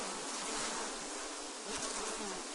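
Honey bees hum densely at an open hive during beekeeping work, a steady close swarm of buzzing that fills the whole stretch, with no talk over it.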